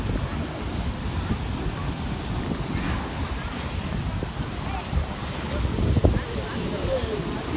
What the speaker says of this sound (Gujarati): પાણી ઉડે છે